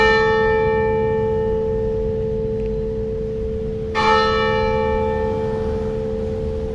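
The tower bell of Hoa Dao church in Cho Quan ringing the noon hour: a sustained resonant tone decaying slowly, then a fresh loud strike about four seconds in, heard from nearby with steady background hum.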